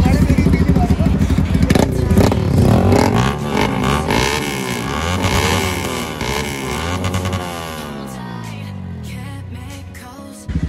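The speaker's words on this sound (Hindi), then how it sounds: "सबसे लाउड बाइक है वो हमारे पास NS 200 है, और इसमें भैया ने एग्जॉस्ट लगवा रखा है आफ्टर मार्केट लियो विंस का" Bajaj Pulsar NS 200 motorcycle fitted with an aftermarket Leo Vince exhaust, revving loudly up close with a throaty, crackling note that eases off and then picks up again at the end.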